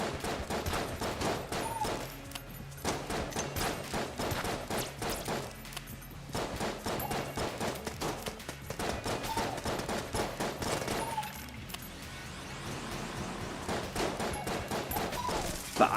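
AK gunfire in the Enter the Gungeon video game, rapid bursts of automatic shots repeating throughout with brief pauses, mixed with game effects and background music.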